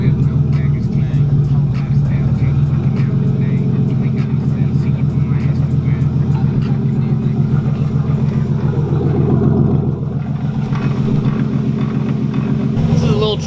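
Car with a welded differential creeping along at low speed, a steady loud engine rumble throughout with a slight dip near the end.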